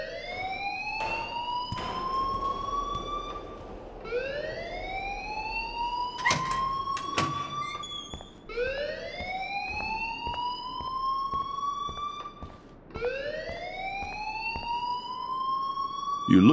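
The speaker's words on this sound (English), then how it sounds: "please turn off that alarm since that's your job" A school alarm in the video game Life Is Strange wails in repeated rising whoops, about four loud cycles in a steady rhythm, with no talking over it.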